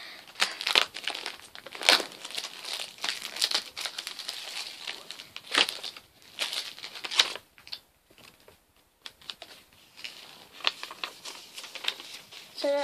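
Plastic packaging of Moshling collectible bags being torn and crinkled open by hand, close and irregular, with bursts of rustling and pauses between pulls, no talking.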